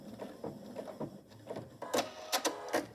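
A domestic sewing machine runs through quilt binding in a few short mechanical bursts, the stitching rattle rising and stopping near the end after quieter handling noises, with no talking.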